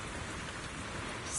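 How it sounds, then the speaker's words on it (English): Steady rain in the video game Zenless Zone Zero, a dense, even hiss of falling drops on surfaces, close and continuous with no voices. "Take some time to clear your head in the rain before that thing finds you."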